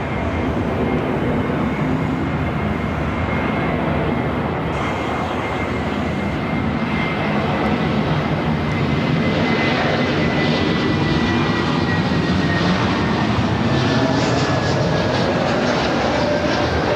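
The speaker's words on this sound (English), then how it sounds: "The flight coming in from Newark, A321neo." An Airbus A321neo arriving at LAX on a flight from Newark produces a loud, continuous jet roar that holds steady throughout, with a faint whine slowly falling in pitch.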